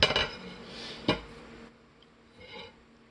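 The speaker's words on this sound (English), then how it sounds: "I'm going to just dump the beans in there." Beans dumped from a bowl into a crock pot, heard as a few clinking, clattering knocks of dish and pot, close and moderately loud, then quieter scraping.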